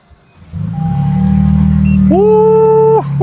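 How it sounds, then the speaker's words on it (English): A 2026 Toyota Sequoia TRD Pro with the iForce Max engine cranks and catches, settling into a loud, close, steady idle with deep exhaust rumble, while a couple of electronic chime tones sound over it. "let's start this bad boy up so you guys can get an exhaust vid from this thing"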